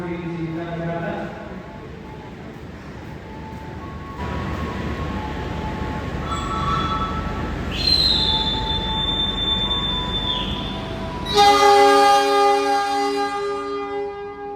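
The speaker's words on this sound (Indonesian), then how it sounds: "Karena habis ini keretanya mau berangkat, kita langsung masuk ya." KA Mutiara passenger train pulling out of Solo Balapan station at night: a steady rolling rumble with droning tones, then sharp high squealing from the wheels near the end, with voices in the background.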